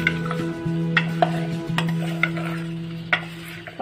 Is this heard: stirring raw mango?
yes